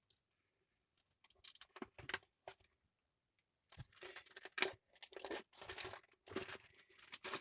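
An Attack on Titan trading card pack is handled and torn open close to the microphone, giving irregular bursts of crinkling and ripping foil. A short quiet pause splits the sound, and denser tearing follows.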